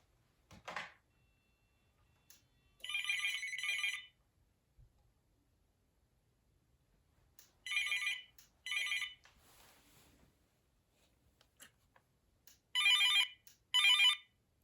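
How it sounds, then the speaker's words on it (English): A pair of Uniden DXI386-2 900MHz analog cordless phone handsets rings in short, shrill electronic bursts, repeated in spaced pairs with quiet gaps between them. No one speaks. "Now let's ring up these phones."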